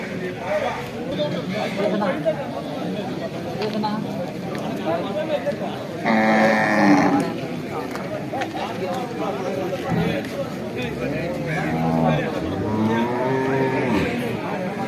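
A buffalo calf at a busy livestock market moos in a couple of drawn-out calls, standing out over steady crowd chatter and nearby voices.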